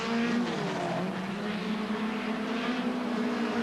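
Hot rod race cars at Ipswich in 1979 drone steadily past at close range, a continuous loud engine roar with a sustained low tone and rushing noise, no talk over it.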